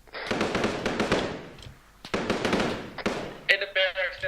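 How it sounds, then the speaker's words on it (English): Machine gun fire in a military video game: rapid bursts of loud automatic shots come in quick clusters with short pauses, close and sharp, and a voice speaks briefly near the end. "In the barracks, there's a machine gun that just hit me really hard."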